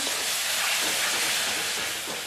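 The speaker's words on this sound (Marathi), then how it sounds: "थोडंसं त्याच्यात पाणी टाकते" Water poured into hot red chilli masala in a pan for a val bean birda curry: a loud, steady, close hiss of sizzling that fills the whole stretch and eases slightly at the end.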